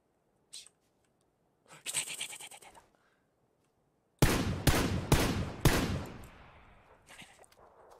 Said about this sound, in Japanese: 銃声